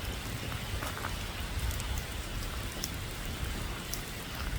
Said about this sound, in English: It's pouring down rain at the moment.